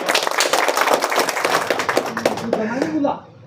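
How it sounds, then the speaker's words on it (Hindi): A crowd at a village welcome ceremony claps in a dense, fast burst that thins and stops near the end, with talking mixed in over the applause. "और ताली वाली हो जाए यार थोड़ा।"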